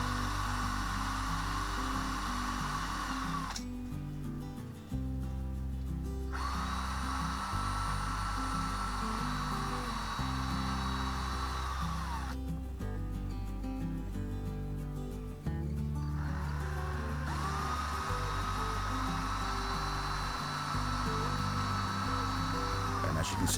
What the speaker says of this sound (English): we'll put the one wheel we do have into the drill, and we'll give that a polish using the Metal Polish Autosol